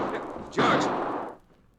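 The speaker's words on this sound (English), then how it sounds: "Those sound like shots." Gunfire rings out in a Western radio drama set in a frontier town during a bank holdup. Dense, loud bursts swell into a sharp blast that slowly rolls away, with no voices heard.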